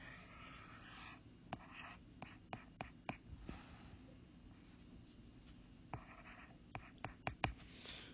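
Graphs of curves drawn by hand during a calculus lecture, with a pen or marker scratching in short strokes and sharp taps, close and distinct, spread across the clip with quiet gaps and no voice.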